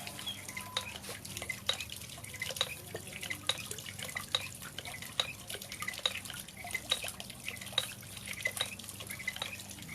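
A monk's bamboo water wheel with a pump, built from bamboo canes and wire, knocks steadily: a regular, evenly spaced series of light wooden taps at moderate distance over a soft bed of trickling water.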